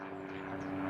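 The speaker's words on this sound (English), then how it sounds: "Fucking helicopter." Aircraft engine drone from a helicopter passing overhead near a barn, a faint steady hum that swells slightly louder toward the end.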